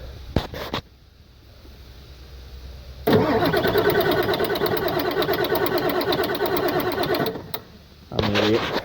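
A Ford 7.3 Powerstroke diesel with dead glow plugs and no fuel heater cranks hard in the cold, the starter churning steadily for several seconds after brief bursts, without catching, then a short final crank.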